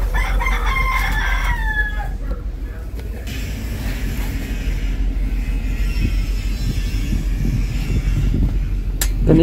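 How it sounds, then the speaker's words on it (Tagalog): A rooster crows from a neighbouring yard during solar panel rail mounting work, its harmonic call rising clearly in the first couple of seconds over steady low background noise, followed by ongoing ambient sound. "Tumilaok ang manok."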